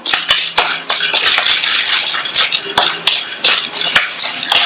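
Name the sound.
roasting chana dal (Bengal gram) in a pan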